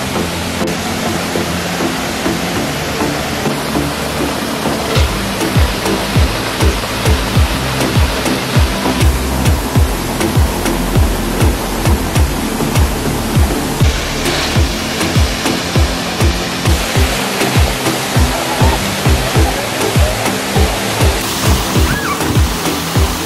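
The Edessa waterfall in Northern Greece roars as a loud, steady rush of falling water. A regular pattern of low thumps repeats through the roar for most of the stretch.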